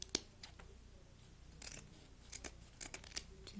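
Scissors snipping through burlap for a decorative egg craft: a handful of crisp, close snips at irregular intervals over a quiet room background.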